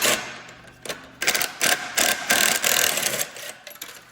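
Rapid ratchet clicking from a socket wrench working on engine head bolts during a teardown, sounding in several short close bursts with brief pauses between.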